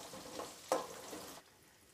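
Small shallots, crushed garlic and spices sauté in hot oil in a pan for a brief stretch of close, soft sizzling with a light stir, then the frying quiets down.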